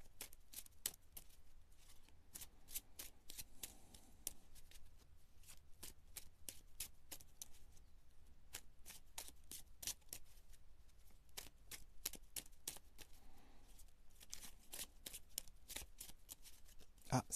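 A deck of tarot cards being shuffled and cut by hand: a steady run of crisp, close riffles and flicks repeating throughout, with brief pauses and no speech.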